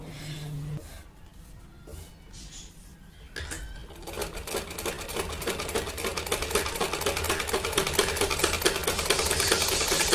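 A sewing machine stitching the sleeve seam of a boy's kameez, a rapid rattling hum that starts quietly and grows steadily louder and denser, close by and without talk.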